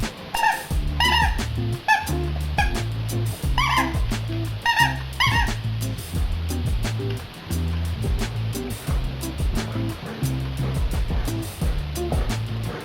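A dog whimpers and yips in short high bursts, repeated through a low rhythmic background hum, fairly close.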